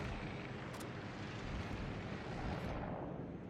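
A shell strikes a warship's citadel in World of Warships, producing a deep, rolling explosive rumble that swells and lingers in a continuous roar, with faint crackles scattered through it.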